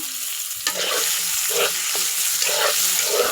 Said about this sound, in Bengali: আবার তেল দিছি, আর এখানে পেঁয়াজ রসুন, তারপর তেজপাতা আর কিছু গরম মশলা